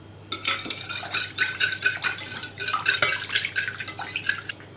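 Oil and egg white for pastry dough being whisked in a bowl, a rapid, continuous rhythmic clatter of a utensil against the bowl, close and fairly loud with nobody speaking.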